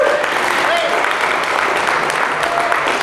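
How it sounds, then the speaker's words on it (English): A panel discussion audience gives a round of applause, dense steady clapping heard up close with a few voices faintly mixed in. "Let's have a round of applause again for Eli"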